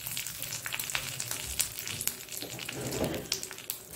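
Curry leaves hit hot oil with spluttering mustard seeds, producing a busy close-up frying crackle of dense pops and sizzles that swells briefly partway through, with no voices.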